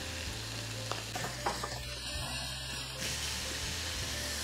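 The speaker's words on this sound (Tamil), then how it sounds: "கட் பண்ணி வச்சுருக்கிற இறாலை சேர்க்குறோம்" Cut prawns frying in a hot pan for prawn bonda, a continuous close sizzle with several light scraping stirs and a low mechanical hum underneath, no speech.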